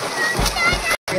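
People splashing and sloshing in cold water outdoors on a hot day in an Uttarakhand village, a close, busy wash of water noise with voices talking over it.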